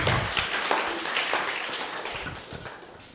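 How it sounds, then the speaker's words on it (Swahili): A room full of people claps for a church self-help group's annual general meeting at St. Anne Catholic Church, Muthure: a dense, steady patter of hands that slowly fades over a few seconds. "Tumuhorere makofi agioka."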